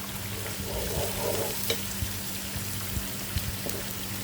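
Ground garlic and ginger frying with onions in a pan, a steady loud sizzle with occasional stirring scrapes and small pops throughout, no voices.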